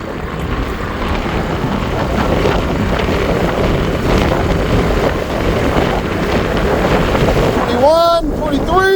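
A Zora Master Cargo electric bike runs flat out on pedal assist along a long strip, with a loud, steady rush of wind buffeting the microphone throughout and a brief tonal, voice-like sound near the end.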